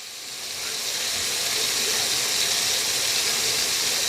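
Venison sizzling and steaming in a hot pan for a chipotle quesadilla: a steady, close, bright hiss that swells in over the first half-second and then holds evenly, with no talking.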